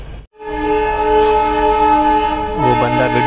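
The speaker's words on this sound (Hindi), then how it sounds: "ऊपर से मेट्रो भी जा रहा" A metro train runs along an overhead bridge, heard from a train below as a loud, sustained tonal whine with layered harmonics that shifts pitch near the end.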